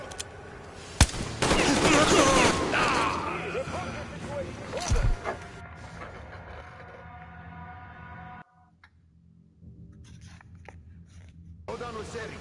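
Bursts of automatic gunfire in the Metro Exodus game, loud rattling volleys early on that thin into sporadic shots, with shouted voices over the combat and a brief near-silent gap near the end.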